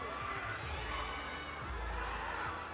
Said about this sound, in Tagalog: Sigaw na sigaw yung mga tao dito.